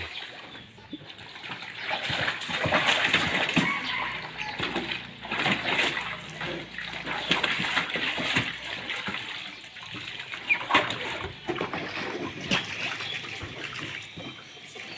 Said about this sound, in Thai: น้ำน้ำไม่ค่อยเยอะครับ น้ำเพิ่งไหลเนาะ